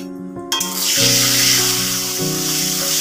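Black cumin seeds hit oil left over from frying rupchanda fish, bursting into a sudden loud sizzle that settles into a steady close hiss with a faint low hum beneath.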